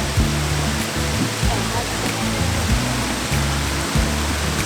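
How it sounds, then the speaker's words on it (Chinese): A waterfall in the Shanlinxi forest recreation area in Nantou, Taiwan, gives off a loud, constant rushing roar that fills the air, with a low, voice-like murmur in the background. "然后这边瀑布。"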